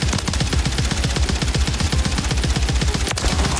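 Rapid video game gunfire rattles in fast automatic bursts, a steady stream of loud, close shots with a brief break near the end.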